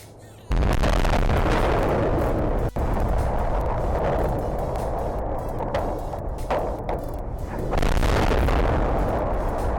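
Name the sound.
SpaceX Starship SN10 rocket explosion after landing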